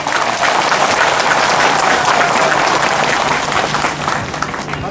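A large audience at a Bharatiya Janata Party rally applauds loudly for the chief minister, a dense, steady wash of clapping that fills the whole stretch without a break.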